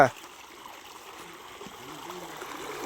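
Water steadily flowing and trickling out of a pond outdoors, a continuous rushing wash at moderate level with a faint voice briefly in the background.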